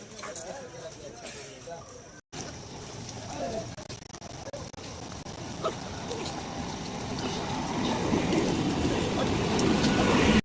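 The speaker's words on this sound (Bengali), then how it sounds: "আরও যে ওদিক থেকে ট্রেন আসছে" A train rumbles in toward a station platform during the Kolkata Marathon, its low rolling noise building steadily louder over crowd chatter and general bustle.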